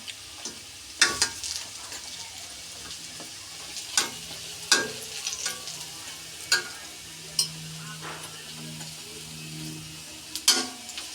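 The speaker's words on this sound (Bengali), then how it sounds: "ওইগুলি এখনো ভাজা হচ্ছে" Fritters (bora) frying in oil give a low, continuous sizzle close by, with several sharp clicks and scrapes from turning and stirring in the pan at irregular intervals. No voices are heard.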